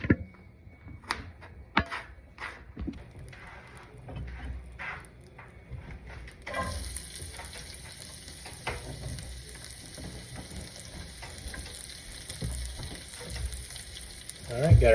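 Carrots and onions fry in a pan for shrimp and beef ramen, a steady soft sizzle with occasional stirring clatter and scraping, close and moderate, with brief voices at times.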